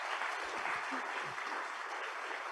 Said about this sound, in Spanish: Un doble aplauso por su participación el día de hoy